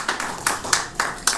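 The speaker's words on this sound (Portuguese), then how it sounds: "Uma salva de palmas para essa artista fantástica." Six evenly spaced, crisp hand claps in a steady rhythm, applauding an artist after a performance, fairly close and with no voices over them.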